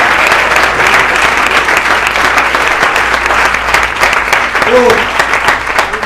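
A church congregation keeps up sustained, even clapping during a service, a thick wash of applause with a brief voice faintly audible under it.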